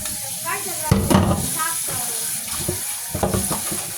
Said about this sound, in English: I like to wash my dishes so they get out the way.